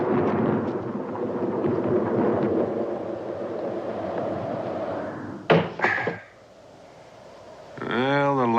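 Thunder from a storm rumbles low and steady under dialogue, then two sharp cracks burst out close together before the sound drops away and voices resume.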